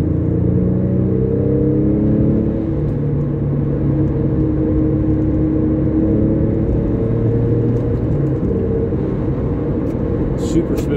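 Car accelerating and shifting smoothly through the gears, a steady loud engine drone with rising and falling pitch steps for each shift, heard from inside the cabin.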